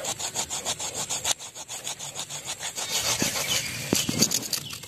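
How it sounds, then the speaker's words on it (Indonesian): A hand saw that is sharp but long neglected cuts slowly through soft wood, making steady back-and-forth rasping strokes, close and loud, with a brief pause partway through. "lumayan lembek juga apabila kita potong menggunakan gergaji yang agak tajam"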